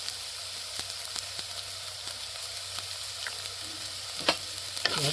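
Salt, turmeric, coriander-cumin powder and Kashmiri red chilli sizzle in hot oil in a pan for a millet rotla dish, a soft steady fry broken by occasional scrapes and taps of a stirring spoon.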